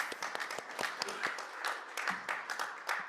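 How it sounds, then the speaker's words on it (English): Meeting attendees clap together in a room, a run of distinct, sharp hand claps that come in an irregular, moderately loud patter across the whole span with no talk over them. "we're going to turn these on and clap so they can hear us."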